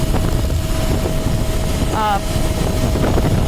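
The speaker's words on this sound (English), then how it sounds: "So despite this gusty wind" Gusty wind buffets the microphone by the water above an intertidal shore in a loud, steady low rumble, and a voice speaks briefly partway through.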